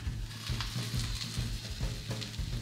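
Seafood pancake fries in a pan over high heat, giving a steady sizzle with soft rhythmic scraping and stirring pulses about twice a second, close and moderately quiet, with no talking.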